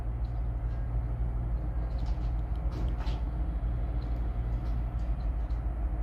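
A Florida East Coast freight train, an intermodal consist, rumbles steadily across a bridge in St. Augustine, Florida, a continuous loud low drone of wheels and locomotive with faint high squeals and clanks above it.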